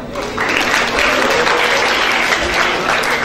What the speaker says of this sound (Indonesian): Tepuk tangan dong buat Ega.